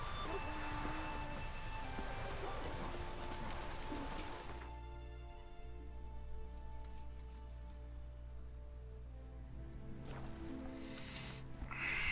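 Heavy rain pours in The Witcher 3 game world, a dense steady hiss at low level, joined partway through by sustained tonal music underneath.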